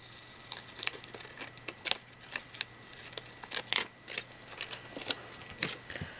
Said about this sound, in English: I think this looped section here, and then those two parts I'm gonna cut apart.